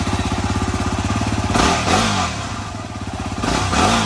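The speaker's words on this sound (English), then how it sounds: "here's a sound test of what the bike sounded like stock." Yamaha WR250R dual-sport motorcycle on its stock exhaust, idling with a steady close thump, then revved in two throttle blips that rise and fall before it settles back to idle.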